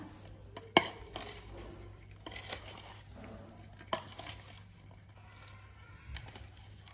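Mango pieces for Andhra avakaya pickle being stirred and mixed in a pot, with soft scraping and a few sharper clinks of a utensil against the metal, close and moderately quiet, with no talking.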